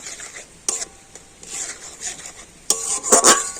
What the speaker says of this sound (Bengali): জলের সাথে গুঁড়ো দুধটা খুব ভালো করে গুলে নেব